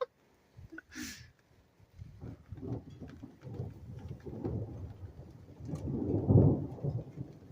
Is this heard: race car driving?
no